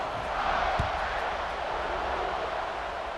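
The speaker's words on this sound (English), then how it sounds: "this crowd is buzzing after that last score" Steady stadium crowd buzz in College Football 26, a broad continuous murmur filling the arena with no single voice standing out, holding at an even level throughout.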